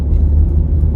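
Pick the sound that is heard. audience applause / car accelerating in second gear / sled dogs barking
car accelerating in second gear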